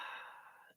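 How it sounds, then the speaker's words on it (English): A single deep breath, soft and close, a breathy exhale that fades out after less than a second. "Taking a deep breath."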